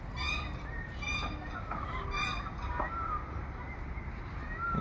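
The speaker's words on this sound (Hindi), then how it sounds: "ये भी एक डक्स की प्रजाति होगी, बतखों की प्रजाति है ये" Several ducks honk and call repeatedly at a moderate distance over a low background rumble at a bird park in Chandigarh.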